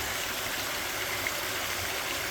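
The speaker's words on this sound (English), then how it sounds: "So this is a waterfall." A waterfall on the back side of Barrett Park roars with a steady, dense rush of falling water that stays even throughout, with no voices.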